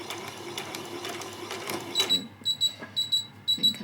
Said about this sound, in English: Take no notice of my machine making those strange noises it makes.